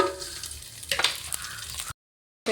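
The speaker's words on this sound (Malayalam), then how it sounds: "അതിലോട്ട് ഞാൻ ഈ അണ്ടിപ്പരിപ്പ് മുന്തിരിങ്ങ ഇടാൻ പോകുന്നു." Cashews and raisins sizzle in hot ghee in a pan, a steady close crackle with a brighter burst midway, cutting to silence near the end.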